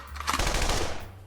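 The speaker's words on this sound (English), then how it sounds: "I'll just pretend the gunshots were real and then I can capitalize on the drama." A rapid burst of gunshot sound effects, loud and dense like machine-gun fire, packed into about a second with no talk.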